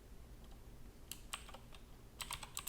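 Quiet computer keyboard typing in two short bursts of clicks, one around the middle and one near the end, over a low steady room hum with no voices.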